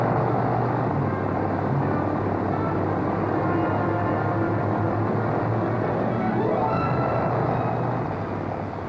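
Piston engines of a Boeing Stratocruiser double-deck airliner running up to takeoff power, a dense, loud, steady roar and rumble that holds evenly throughout with a slight rising tone near the end.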